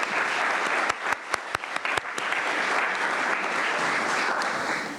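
Ceremony audience applauding volunteer coordinators at a county volunteer recognition event; steady, full clapping from a crowd with a few sharper close claps near the start, continuing without talk.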